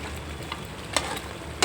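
Chicken pieces for gongura chicken fry in hot oil with a steady close sizzle, broken by a few sharp spatters and stirring clicks, no talking.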